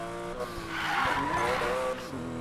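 A Porsche skids with squealing tires in the racing game Need for Speed Payback, a loud sustained screech rising over a steady engine drone for a couple of seconds.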